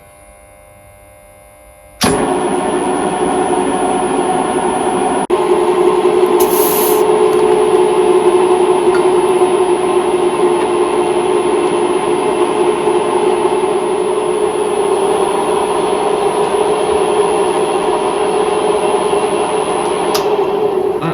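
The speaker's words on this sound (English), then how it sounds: "So we are ready to drill." A drill starts abruptly and runs steadily into metal, boring a 1/4-inch hole for a Bolens sleeve hitch, a continuous whirring grind with a high hum, sustained for nearly twenty seconds without speech.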